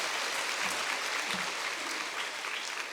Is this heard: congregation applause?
yes